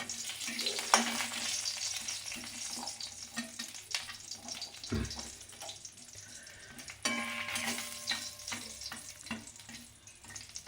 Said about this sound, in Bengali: বড়ি দুটো একটু ভেজে নিই